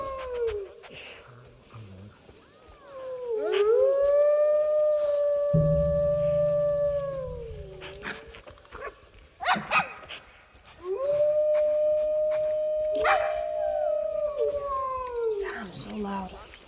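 Wolf cubs in Planet Zoo let out loud, drawn-out howls in two long overlapping bouts with rising, wavering tones, separated by a short break with a few clicks and thumps from the game's environment.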